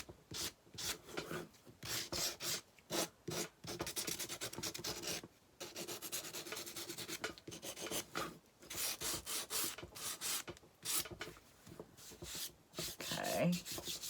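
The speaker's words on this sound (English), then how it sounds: "I think I'll take my little sander, just kind of hit the top and the corners and the edges." A small handheld sander works over the top, corners and edges of a wooden decor piece, producing rough scratchy rubbing in short bursts with brief pauses between passes, fairly close.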